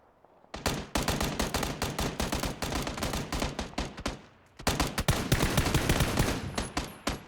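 Dense bursts of automatic gunfire from a competitive PUBG match, rapid cracks in long volleys with a brief lull before another sustained stretch of shooting, loud and close.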